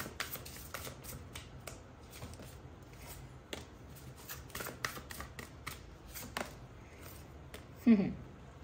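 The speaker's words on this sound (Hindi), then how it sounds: "फिर से shuffle करते हैं।" Tarot cards being shuffled by hand, a soft, close run of quick riffling and slapping bursts repeating irregularly over a quiet room, ending with a brief louder knock.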